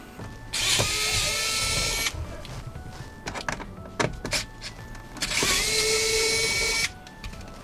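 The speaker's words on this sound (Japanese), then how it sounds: "こことここのネジを外しまして、このカバーを取ります。" A power screwdriver removes screws from an interior cover panel on the driver's side of a 30-series Toyota Vellfire/Alphard. Two whirring bursts of a couple of seconds each are separated by clicks and handling knocks, all close by with no talk.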